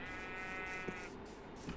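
Sheep in Minecraft let out a bleat, a steady buzzing tone that holds for about a second and then stops, loud and close with no talking.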